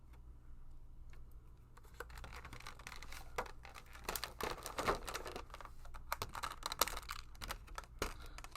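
Zip ties being snipped and plastic packaging handled while unboxing McFarlane Toys Suicide Squad King Shark action figure parts: close, irregular clicks, snaps and crinkling rustles throughout, with no talking.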